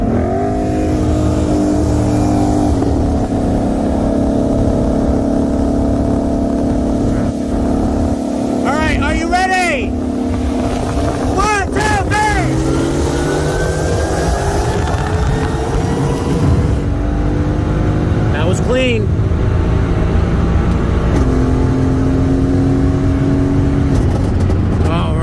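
A 2018 Mercedes C63 S AMG with bolt-ons on E30 and a 2021 Shelby GT500 with an intake race from a 65 mph roll, engines roaring loudly and continuously with rising revs and gear shifts.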